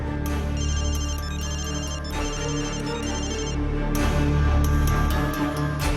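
A phone ringtone repeats in bursts of bright electronic tones over a steady musical backing, ringing on without anyone answering.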